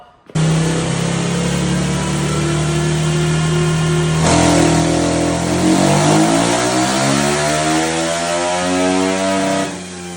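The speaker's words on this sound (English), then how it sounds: "we put the same compound, same stagger, and ran it up on the dyno, made sure the AFRs were right." Race car engine revving on a dyno, held at a steady high drone that then sweeps upward in pitch, loud and continuous for the whole stretch with no voices.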